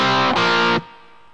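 A distorted electric guitar triple-stop chord, played without staccato, rings out for almost a second before being cut off, leaving a faint amplifier hum behind.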